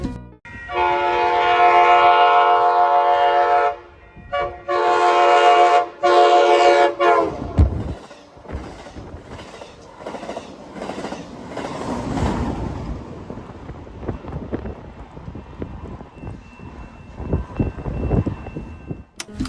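A Siemens SD-100 San Diego Trolley light rail car sounds its horn in loud sustained blasts, then rolls past with rumbling wheels and clattering rail noise fading into a rhythmic running sound.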